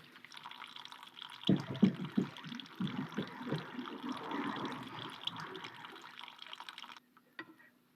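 Water trickles slowly through a narrow tube packed with paper in a classroom physics demonstration, a soft running flow with irregular splashes and drips that stops abruptly near the end, followed by a couple of faint drops.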